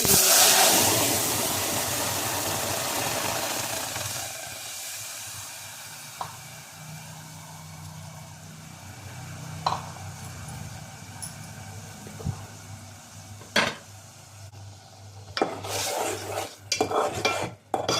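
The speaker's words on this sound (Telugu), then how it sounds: "ఆయిల్ హీట్ అయిన తర్వాత 1 టీ స్పూన్ ఆవాలు వేసుకోండి" Mustard seeds hit hot oil for a tomato chutney with a loud hissing sizzle at first. The sizzle gradually fades to a quieter fry, broken later by scattered pops and sharp utensil scrapes against the pan.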